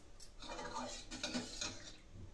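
Besan halwa being stirred in a pan as sugar syrup is added, soft scraping and sloshing of the thick gram-flour mixture, quiet and continuous, up close.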